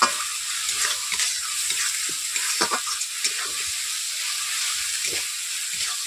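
Onions frying with a little salt and spices in a pan for a pangas fish dhoka, a steady close sizzle with intermittent stirring scrapes running throughout, no voices.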